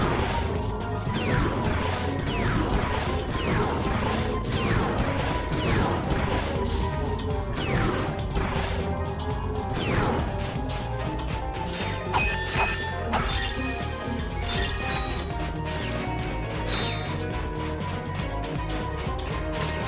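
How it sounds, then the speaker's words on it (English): In Ratchet & Clank: Going Commando, an upgraded wrench smashes in-game objects, with repeated crashing and whacking hits layered over a dense, continuous mix of game music and effects. "I wonder if the upgraded wrench lets me hit these."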